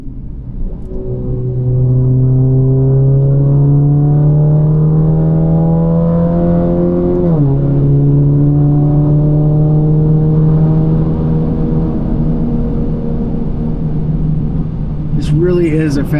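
A turbocharged Alfa Romeo Giulia 2.0T engine accelerates hard, its loud droning note climbing steadily in pitch, dropping briefly at a gear change and then rising again, heard up close from inside the car.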